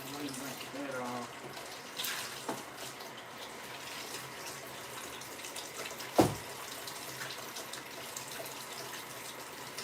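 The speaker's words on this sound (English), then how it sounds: "I have my ginger, of course. Let me rinse that off." Kitchen tap running steadily as fresh ginger is rinsed under it, a soft continuous water hiss with a few small knocks and one sharp clunk partway through.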